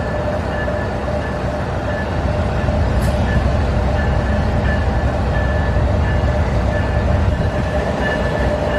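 A loud, steady rumble of an Amtrak passenger train arriving nearby at a station in Havre, Montana, with a continuous mechanical drone and faint clatter, no voices.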